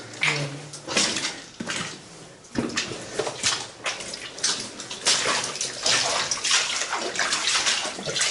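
Footsteps wading and splashing through water in an underground tunnel beneath the English Channel, with irregular sloshing and slaps that carry on for several seconds, echoing off crumbling walls.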